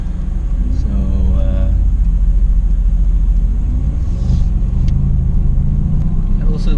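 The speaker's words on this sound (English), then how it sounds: "Nice big V8 at the front." The deep, steady rumble of a Mercedes-AMG GT S V8 engine drones throughout, with a voice talking over it.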